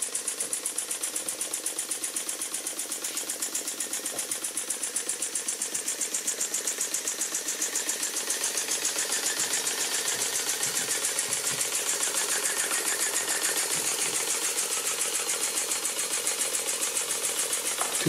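An IND-X custom steam engine with two flywheels runs steadily, giving a fast, even mechanical clatter that continues unbroken at a constant level throughout, with no voices.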